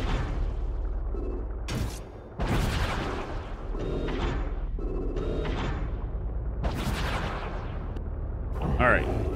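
Enemy cannons fire in the underwater video game Song of the Deep, several heavy booms and blasts landing at irregular intervals over a droning game soundtrack, with a person talking between shots.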